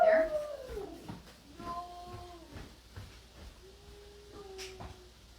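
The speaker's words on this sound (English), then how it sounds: "That dog barking just makes me crazy." A dog barks and howls somewhere off in a home kitchen, giving a few drawn-out, tonal yelps spread across several seconds at moderate distance with no talk over it.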